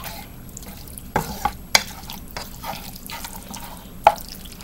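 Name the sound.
stirring sloppy joe meat to coat it in sauce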